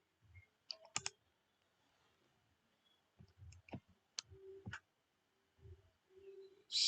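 Spacebar and keys pressed on a computer keyboard while drafting engineering graphics, giving a few sharp, close clicks scattered across an otherwise quiet stretch.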